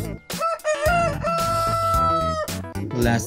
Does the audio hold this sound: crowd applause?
no